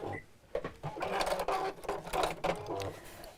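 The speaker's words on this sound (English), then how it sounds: "And a back stitch at the end." Sewing machine running a seam on a rattan-handle bag and finishing with a back stitch, a close, steady motor whir with rapid needle chatter that pauses briefly and then restarts.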